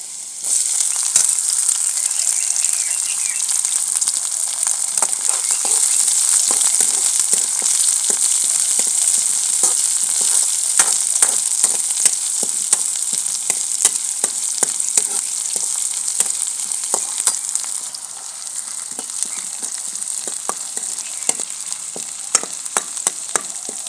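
Chopped onion frying in a pan for a village-style potato and tomato dish, giving a steady, loud sizzle with scattered crackles and pops throughout, with no voices.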